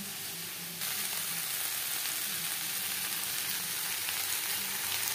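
A pan of Bengali home-cooked dish being stirred and fried, with a steady sizzle after a brief quieter start and soft scraping movements, no voices.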